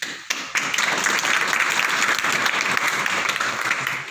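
Dense, steady applause from an audience at a community stage gathering, many hands clapping continuously with no pauses.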